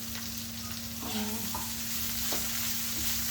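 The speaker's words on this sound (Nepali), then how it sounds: "करेलालाई चाहिँ रातो हुनेसम्म भुट्नुपर्छ एकछिन।" Bitter gourd (karela) sizzles steadily in a hot pan while being cooked for pickle, with a few scraping stirs of a spatula breaking through the continuous close frying hiss.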